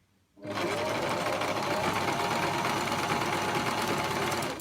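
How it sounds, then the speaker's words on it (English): A sewing machine starts up and runs continuously at a fast, even pace, stitching a gathered ruffle at high thread tension, with a close, steady mechanical whir. "let's start sewing those ruffles"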